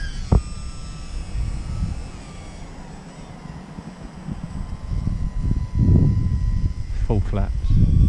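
A UMX Timber RC airplane taking off with full flaps, its small electric motor whining in short revving bursts, moderately close, with people talking over it.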